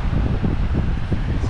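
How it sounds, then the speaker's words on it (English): Strong wind by the ocean in Cape Town, a steady low roar buffeting the microphone with no pauses, close and fairly loud throughout. "It's quite windy."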